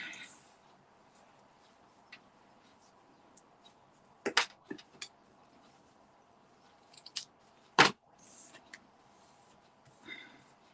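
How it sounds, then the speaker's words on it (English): Scissors snip the ends of a paper craft piece in a few quick, close cuts scattered through an otherwise quiet stretch, with a soft thump near the middle. "I'm just going to need to trim those ends a bit, I think."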